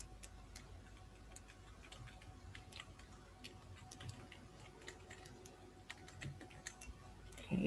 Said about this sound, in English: we're just gonna type some text